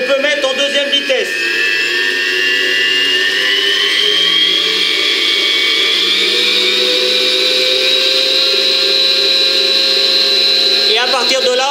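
Electric mixer whipping dark chocolate ganache at second speed, a loud steady motor whine that starts abruptly after a brief lower hum and holds constant, slowly rising in pitch before cutting off near the end.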